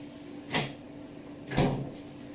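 Two soft thumps of a refrigerator door opening and closing in a kitchen, about a second apart, faint over a quiet background hum.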